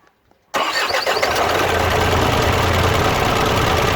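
A car engine with a fault, a piston the oil is only reaching the top of, cranks and catches abruptly after a moment of quiet, then roars loudly and continuously as it is revved hard.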